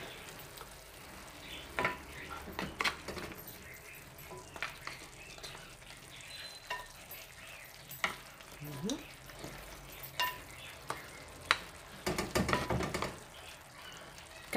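Cauliflower and meat in a tagine sauce sizzle in a pot as a spoon stirs them, with irregular scraping knocks over a low, steady frying hiss.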